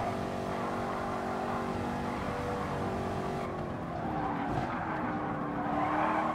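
A race car engine in Gran Turismo Sport drones steadily with shifting pitch and a brief tire squeal, a continuous game-like roar with no talking.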